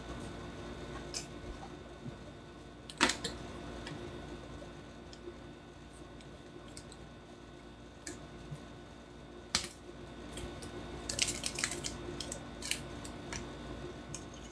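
Kitchen scissors snipping at packaging, a few sharp isolated cuts then a quick cluster of snips, close and fairly quiet.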